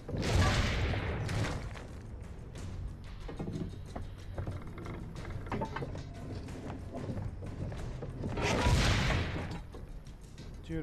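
Cannon fire in Assassin's Creed Brotherhood: heavy booming blasts open the scene and return near the end, with rumbling gunfire and mechanical clatter filling the stretch between, loud and close.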